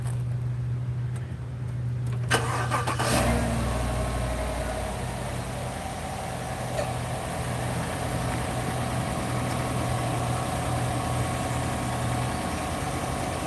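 A car engine with a recalled water pump cranks and catches about two seconds in, then settles into a steady, low idle that hums on without interruption.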